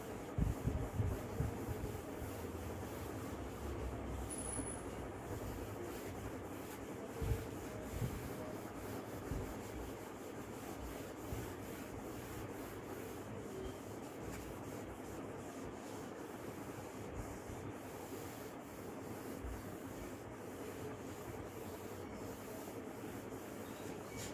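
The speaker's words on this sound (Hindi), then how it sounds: "सो मैं इसे अभी रब कर रही हूँ यहाँ से" Soft, steady rubbing of an eraser or duster across a board, a continuous low scrubbing texture with no talk, heard close and faint throughout.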